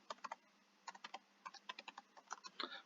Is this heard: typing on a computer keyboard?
yes